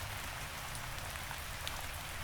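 Steady rain falls continuously, a soft even hiss of drops on a surface with no other sounds, moderately quiet and unbroken throughout.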